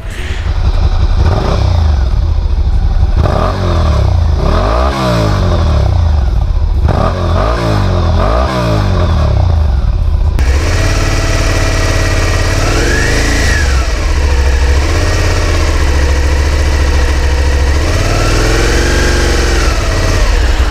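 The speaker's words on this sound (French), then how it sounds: "Même avec le pot d'origine, c'est un bruit assez sympathique." A Suzuki SV650 (2018, A2-restricted) motorcycle engine with stock exhaust revs hard and loud up close, climbing and falling in repeated bursts before easing into a rougher, uneven rumble with occasional throttle swells.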